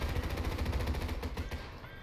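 8 mm machine gun on a ship in War Thunder firing a continuous rapid burst of shots, loud and close, steady for about two seconds and easing slightly at the end.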